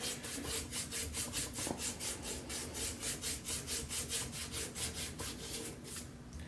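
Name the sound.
hand sanding an antique brace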